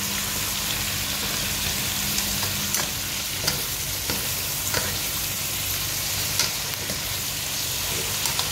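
Beef ribs for adobo sizzle steadily in a pan, a dense continuous frying hiss with scattered pops and a few light scrapes, close and alone.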